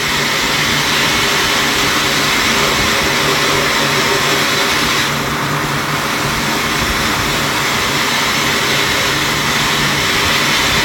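Media blasting a Ferrari wheel gives a loud, continuous roaring hiss of abrasive spraying close up. It runs unbroken throughout, with only a slight change in tone midway.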